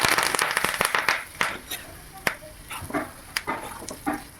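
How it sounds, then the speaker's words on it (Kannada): Mustard seeds, urad dal, dried red chillies, asafoetida and curry leaves crackle in hot oil for a chutney tempering, giving rapid irregular pops and spits over a low sizzle, close and fairly loud. "ಅದಕ್ಕೆ ಚಟ್ನಿಗೆ ಒಗ್ಗರಣೆ ಹಾಕ್ತಾಯಿದ್ದೀನಿ"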